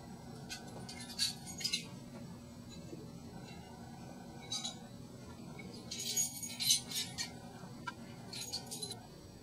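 Car keys jangle and clink in short metallic bursts as they are handed over, several separate rattles spread across a quiet background, brightest and busiest toward the middle.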